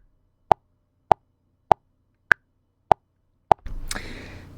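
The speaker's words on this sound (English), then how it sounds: "So if I want to listen to a click track that's at 100" A DAW click track at 100 BPM: six sharp, evenly spaced clicks, crisp and close, with the fourth slightly higher in pitch, followed by a brief burst of faint noise.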